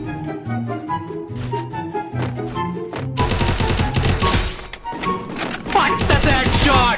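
Gunfire in the mobile battle-royale game Free Fire: rapid single shots crack out in a rhythmic string, then give way to dense, overlapping bursts of automatic fire and effects.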